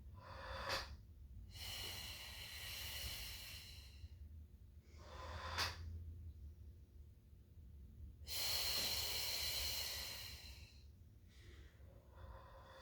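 Slow, deliberate breaths during a Pilates mat workout with an active motion bar: three long airy exhales or inhales alternating with short sharp sniffing intakes, close and clear over a low steady hum, no speech.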